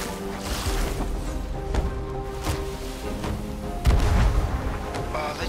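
Ship cannons fire in a Sea of Thieves PvP naval battle, with several booming shots spread across the clip over a bed of ocean waves and water noise. The loudest blast comes near the end.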